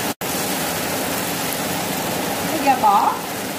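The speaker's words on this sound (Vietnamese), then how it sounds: "trời mưa hơi lớn nha các bạn, thấy ồn." Heavy rain makes a loud, steady, noisy roar in a Mekong Delta home kitchen, a continuous wash of hiss throughout with a brief brighter splash near the end.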